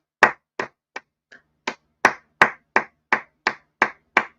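Slow, deliberate hand clapping from a single person, about a dozen crisp close claps at a steady rhythm, with one faint soft tap midway and silence between each clap.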